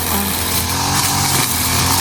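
A small grass cutter engine runs steadily and loud at close range outdoors, a continuous buzzing drone with no talk over it.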